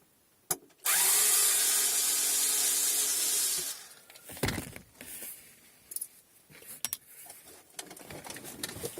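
Power drill backing out screws at the bottom of an old car dash during a Mazda 6 MPS head unit install, one long steady whirring run near the mic followed by short bursts and clattering handling noises.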